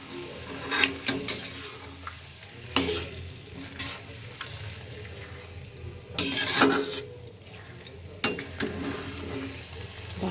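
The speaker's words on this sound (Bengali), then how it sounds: "এবার চিকেন দিয়ে ভালো করে কষাবো" Marinated chicken stir-fried in a pan sizzles steadily while a utensil scrapes and clanks against the metal in bursts, the clatter close and alone without voices.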